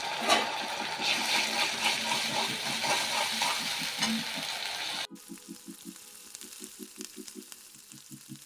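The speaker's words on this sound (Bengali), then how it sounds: "আদা রসুনের পেস্টটা দিয়ে দিলাম, মিনিমাম 3 চামচ আছে।" Ginger-garlic paste, about three spoonfuls, hits hot oil in a pan and sizzles loudly and steadily for several seconds. The sound then drops to a quieter crackle broken by rhythmic stirring knocks.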